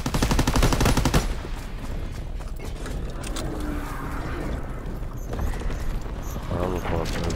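Rapid machine gun fire in Call of Duty: WWII Zombies, a fast rattling burst at the start followed by continuous mid-level combat noise and scattered shots, with someone talking over the gunfire.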